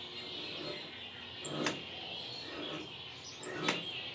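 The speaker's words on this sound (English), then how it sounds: "Probably hear all those birds in the background, very raucous bunch." Faint outdoor ambience with a couple of sharp bird chirps, spaced apart over a soft steady hiss.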